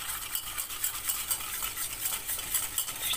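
Custard mixture of sugar, vanilla and flour being whisked in a bowl, a soft continuous swishing and light scraping at low volume, steady throughout with no voices.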